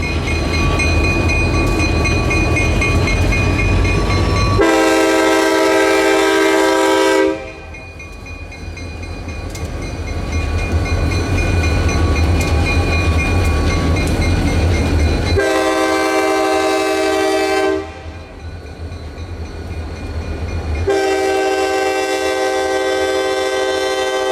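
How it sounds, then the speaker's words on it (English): KCS freight locomotives head northbound toward Hattiesburg, Mississippi, rumbling loudly close by while the horn blasts in three long, separate blows over steady rolling rail noise. "our KCS motors begin trekking their way up northbound to Hattiesburg"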